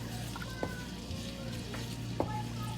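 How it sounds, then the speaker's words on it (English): Minced garlic frying in oil at the start of a char koay teow rice noodle stir-fry, giving a steady close sizzle with a couple of brief clinks, and no one talking. "Allow it to fry till it becomes a little bit brown."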